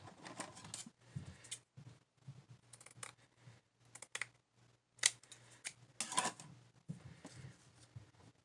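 Scissors snip through a piece of doily in short, crisp bursts of cutting, fairly close and quiet, with brief pauses between cuts and a low background hum.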